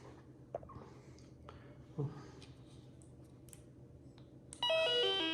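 A Flajzar Fishtron Neon TX3 carp bite alarm sounds as it is switched on, a loud steady electronic tone entering near the end after faint clicks and quiet handling noise.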